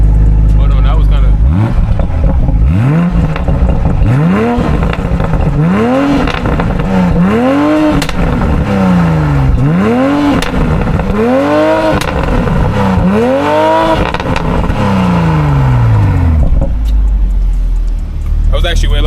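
Toyota Supra in sport mode with valves open and a catless downpipe exhaust, revved repeatedly in a series of rising and falling bursts, loud and close, under continuous engine rumble with faint talk.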